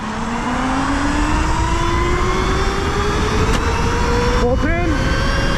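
An extremely powerful electric bike accelerates at full throttle in race mode, its motor whine climbing steadily in pitch over several seconds, loud and close, with brief chirping noises near the end.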